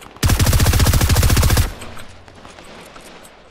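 Rapid automatic gunfire in Fortnite rings out loud and close as a dense burst of about twenty shots lasting roughly a second and a half, then cuts off into quiet game ambience.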